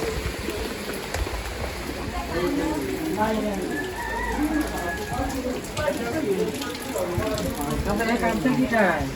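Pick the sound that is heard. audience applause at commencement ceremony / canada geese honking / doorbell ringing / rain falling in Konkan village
rain falling in Konkan village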